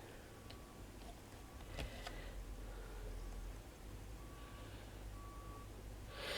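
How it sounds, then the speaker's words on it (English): A vehicle's reversing beeper sounds outside while it backs up, a faint, distant, evenly spaced beep, beep, beep over a steady background hum. "It's like a machine outside with a bleeper on. You know when it's backing up somewhere and it makes that bleep, bleep, bleep."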